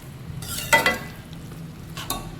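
Grated paneer stirred and cooking in a pan for kaju gotalo, with soft scraping strokes and a light sizzle, two brief stirring bursts close by over a quiet background.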